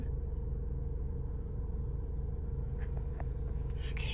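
A Fiat 500X Lounge idles with a steady, low, even engine rumble that stays close and constant, with a few faint clicks from the cabin toward the end.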